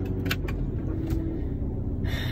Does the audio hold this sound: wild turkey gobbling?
no